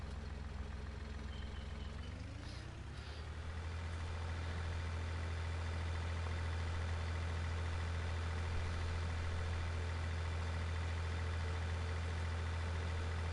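A big tractor engine in Farming Simulator 19 idles steadily with a deep, constant drone, its pitch shifting slightly early on before settling into an even, unbroken hum.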